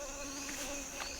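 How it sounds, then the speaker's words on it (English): Bee trapped inside a shirt in the Congo jungle, a close, steady droning buzz with a faint higher whine, sounding alone for about a second. "I think I've got a bee inside my shirt."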